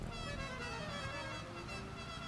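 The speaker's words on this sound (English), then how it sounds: "Whoever's honking, shut the fuck up." A car horn blares in a GTA racing game, a loud continuous honk with a harsh buzzy tone held for the whole brief moment, close and dominant with engine noise beneath.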